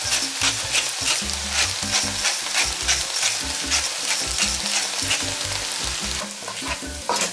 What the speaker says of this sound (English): Sauté for about 3 minutes.